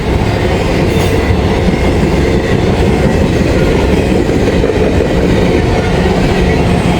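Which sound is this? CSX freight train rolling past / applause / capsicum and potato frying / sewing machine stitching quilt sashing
CSX freight train rolling past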